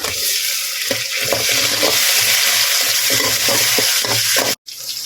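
Onion, green chilli, garlic and tomato with mustard seeds sauté and sizzle steadily in a pan, with frequent stirring scrapes throughout and a brief cut near the end; no one speaks.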